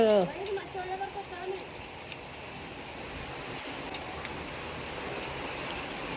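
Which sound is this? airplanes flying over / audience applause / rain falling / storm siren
rain falling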